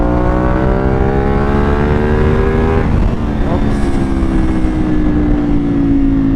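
A CF Moto 450SR motorcycle with a loud Akrapovic exhaust roars continuously as it accelerates through the gears, the engine pitch climbing, dropping at a shift and climbing again, very loud and close throughout.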